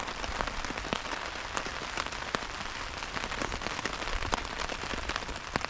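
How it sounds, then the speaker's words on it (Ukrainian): Steady rain patters on a surface, with dense drops and occasional sharper taps continuing throughout, no voices. "Вже дощик ніби трошки зупиняється, але він такий затяжний, буде цілий день падати"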